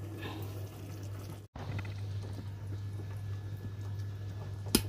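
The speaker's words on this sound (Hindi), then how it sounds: "और ये 3 कटोरी पानी हम इसमें और डाल देते हैं।" Water from three bowls poured into a cooking pot of potatoes for matar pulao, a steady low splashing wash with a brief break partway, over a constant low hum.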